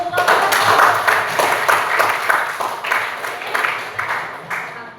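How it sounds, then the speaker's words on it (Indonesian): A classroom full of people claps steadily for several seconds, a dense patter of applause that slowly fades. "Beri tepuk tangan dulu."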